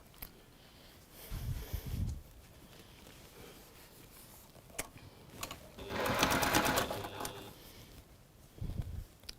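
A sewing machine stitches fabric in short bursts: a brief run near the start, a longer faint whirring stretch in the middle, and another quick burst at the end, close and fairly quiet with no talk.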